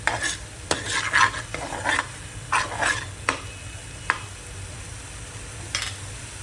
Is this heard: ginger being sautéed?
yes